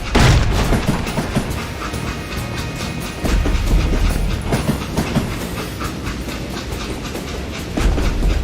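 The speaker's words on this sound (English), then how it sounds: "It was then that Jesse detached the express car from the rest of the damn train." A train rolls along rails in the Western shooter game Call of Juarez: Gunslinger, a loud, steady rumble with rhythmic clickety-clack and surging heavier passages, continuous with no voices.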